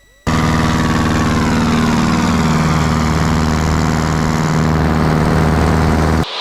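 Small single-engine airplane powering up for takeoff from runway 36, a loud steady propeller engine roar that starts abruptly and holds strong throughout, with a slowly shifting tone and no talk.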